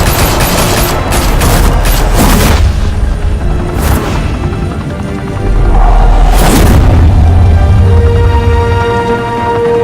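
Heavy gunfire and booming blasts in Batman: The Telltale Series, loud dense bursts filling the scene with two big impacts near the middle, no talk over it.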